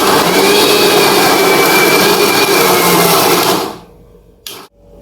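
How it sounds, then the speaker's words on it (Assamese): A kitchen mixer grinder blends frozen milk and Marigold biscuit ice cream mixture, a loud, steady whirring roar that runs for about four seconds before cutting off, followed by a brief clunk. "এইটো মই আকৌ মিক্সাৰত গ্ৰাইণ্ড কৰিম।"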